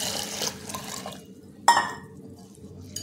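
Sago pearls being rinsed with clean water in a bowl in a home kitchen: soft splashing and trickling at first, then a sharp clink of a utensil against the bowl and a few faint drips, close by and quiet.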